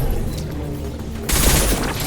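Gunfire in the video game Mass Effect 2 erupts suddenly partway through, a loud broadband burst of shots and impacts over a dense backdrop of game ambience.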